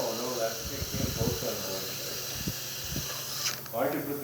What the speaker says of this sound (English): Steaming the way it's supposed to as well without it, and steaming with it